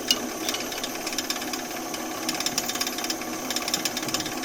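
A wood lathe turns a piece of wood at 400 RPM, giving a steady whirring hum with a rapid, faintly scraping rhythm from the tool against the spinning blank.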